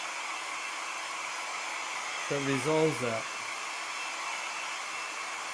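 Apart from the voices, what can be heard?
hair dryer drying watercolor paper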